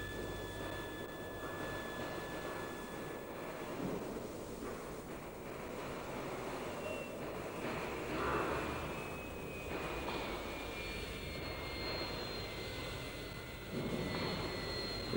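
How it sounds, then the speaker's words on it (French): A steady, distant roar from a 1961 Dassault Mirage III jet diving away into clouds near Mach 1, with a faint whining tone that slowly shifts pitch, a continuous broad rushing noise throughout. "on voit ici l'avion qui s'éloigne dans un piqué et qui disparaît peu à peu dans les nuages"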